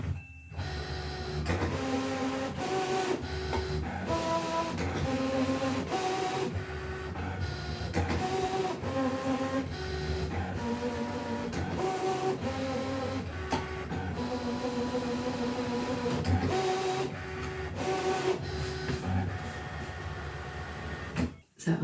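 A Brother ScanNCut machine draws on fabric with a pen, its motors whirring in stepped, pitched bursts with brief pauses between moves, steady and close throughout.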